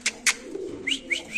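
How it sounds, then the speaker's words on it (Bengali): A white Spanish pigeon cooing up close, a few soft rolling coos following two brief sharp sounds at the start, clear and alone with no talking. "সো দর্শক দেখেন কবুতরের ডাকটা দেখেন সাদা স্প্যানিশ কবুতরের"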